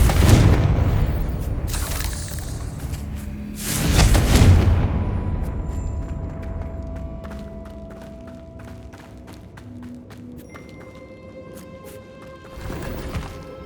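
Fire spell blasts in Hogwarts Legacy burst as two loud booming explosions with fiery crackling tails, followed by quieter game ambience, scattered clinks and a final softer burst near the end.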